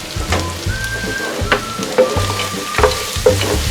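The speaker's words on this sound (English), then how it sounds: "Now get in your crispy fish fillets." Crispy fish fillets frying in a pan with garlic and onion, a loud, steady sizzle with intermittent clacks and scrapes of stirring, close and without voices.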